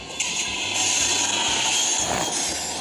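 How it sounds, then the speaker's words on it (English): A video-game train crashes into railyard boxcars, a steady metallic rumble and clatter with ratcheting knocks throughout, fairly loud and without talk. "I think the train just wrecked the train's boxcars and wrecked my engine."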